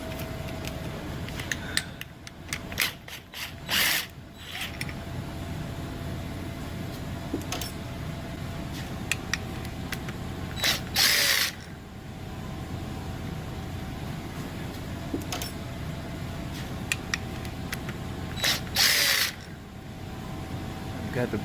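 A hand ratchet removes the bolts holding a bracket beside a dangling AC compressor in a car engine bay, giving close, rapid clicking runs with pauses and a few sharper bursts of noise.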